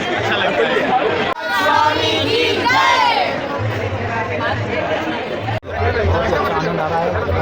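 A dense crowd of devotees at the Jagannath Rath Yatra festival, a steady loud chatter and babble of many voices filling the whole stretch with a few brief dips, closer voices rising above the hubbub.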